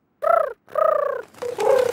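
A voice imitates a pigeon call in a cartoon, producing three short hooting, warbling bursts in quick succession, close and fairly loud with no other sounds.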